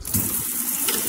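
Water gushing from a tap into a Piuri water filter while on vacation, a brief, close, steady splashing pour with no voices.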